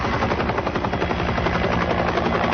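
A helicopter approaches a ship's deck for landing, its loud, rhythmic rotor thumping steady and close throughout with no voices.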